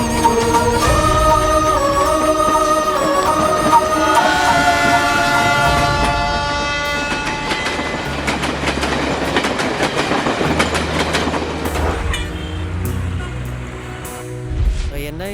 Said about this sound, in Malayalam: മേട്ടുപ്പാളയത്തിൽ നിന്ന് ചെന്നൈയിലേക്കുള്ള ദേവഗിരി എക്സ്പ്രസ് കുറച്ച് സമയത്തിനുള്ളിൽ പ്ലാറ്റ്ഫോം നമ്പർ 2-ൽ